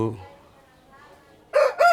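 Country fighting rooster crowing, a short nearby crow at the end after a faint cluck at the start, with quiet background in between.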